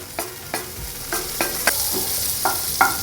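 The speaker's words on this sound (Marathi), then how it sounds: "तर 1 मिनिटभर आपल्याला हा परतून घ्यायचा आहे, कांदा थोडासा सॉफ्ट करून घ्यायचा आहे" Chopped onion and a bay leaf frying in a pan over medium-high heat, with a continuous soft sizzle broken by about eight regular scraping stirs of a spoon.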